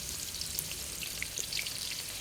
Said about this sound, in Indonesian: Nah ini kita goreng bawang merah, bawang putihnya dulu.